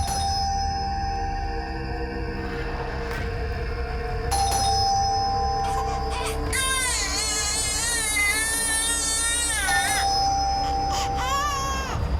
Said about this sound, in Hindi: गुड़िया कब से घंटी बज रहा है, सुनाई नहीं दे रहा है क्या?